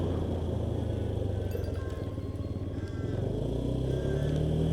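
A Honda Dio scooter engine drones steadily while riding, a close buzzing hum with slight pitch rises as it accelerates, under someone talking.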